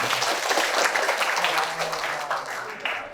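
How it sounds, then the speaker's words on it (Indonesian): A crowd applauds steadily, a dense patter of many hands clapping that slowly fades toward the end. "tepuk tangan untuk Anda."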